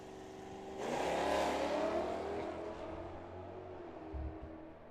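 Drag racing cars launch and accelerate hard down a drag strip at Firebird Motorsports Park, a sudden loud engine roar that swells and then recedes into the distance, with faint background noise before the launch.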